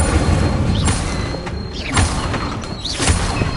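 A fire spell cast during combat in Hogwarts Legacy, heard as a short whooshing burst with low booms and thuds over a dense, busy game soundscape, with a few sharp swells recurring across a few seconds.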